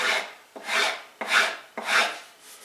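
Sandpaper rasps along the edge of 10 mil wood veneer in four even back-and-forth strokes, close and distinct with short pauses between each swipe.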